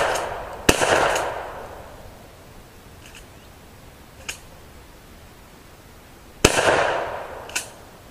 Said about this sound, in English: You go ahead and shoot your 4 shots